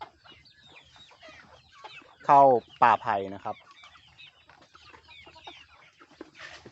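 Free-range Rhode Island Red laying hens on a farm give a short burst of loud, close clucks and squawks, while someone talks quietly throughout.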